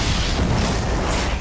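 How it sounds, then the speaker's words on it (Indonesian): A bomb explodes in the action film Dead or Alive, a loud, dense, sustained roar of blast rumble filling the short moment with no break. "Bom pun kemudian meledak dan Victor akhirnya modiar."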